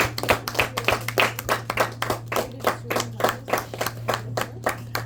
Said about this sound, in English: shall we give Danny a round of applause?